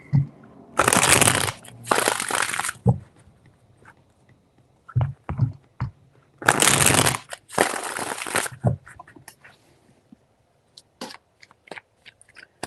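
Tarot cards are shuffled in two long, crisp riffling bursts, each lasting about two seconds, with shorter taps and card handling in between. The sound is close and clear against a quiet background.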